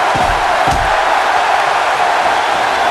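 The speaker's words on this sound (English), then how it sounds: "And this crowd in Chicago are loving every minute of this." Dense roar of a large crowd cheering at a wrestling match in Chicago, a steady wash of noise with a couple of dull thuds near the start, loud and continuous.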